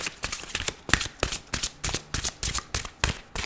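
Playing cards are shuffled repeatedly in a steady rhythm of crisp riffles, close and moderately quiet, with no talking.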